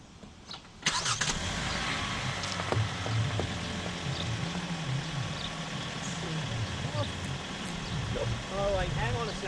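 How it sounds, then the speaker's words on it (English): A 2018 Hyundai Kona's engine starting: a brief crank then a steady close idle hum, with a person talking over it. "So what you want to do is start the car."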